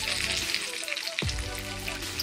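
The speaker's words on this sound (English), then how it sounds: "I melted a half a stick of butter and turn my heat up" Half a stick of butter sizzling and frying in a pan over turned-up heat, a dense steady crackle throughout with a brief stirring scrape near the middle, close by and with no talking.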